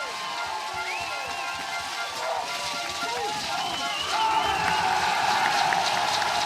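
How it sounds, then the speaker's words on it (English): A large outdoor German crowd at the Winterberg bobsleigh track, during a four-man bobsleigh World Championship heat, cheers and roars steadily, swelling louder toward the end, with whistles and shouts mixed into the dense noise. "Let's listen to the German crowd."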